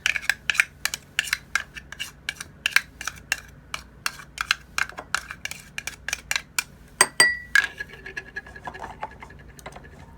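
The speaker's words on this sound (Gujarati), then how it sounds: "હું આ લસણને ચોપરમાંથી નીકાળીને એક બાઉલમાં રેડી કરી લઉં છું" Chopped garlic being scraped from a chopper into a bowl with a spoon, giving a quick series of sharp metallic scrapes and taps in an uneven rhythm, close and fairly quiet, with a louder clatter near the end.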